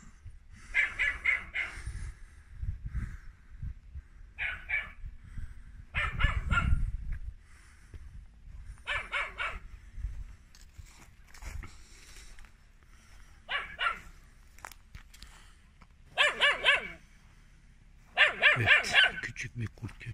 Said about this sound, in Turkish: Küçük bir kurt köpeği sanırım.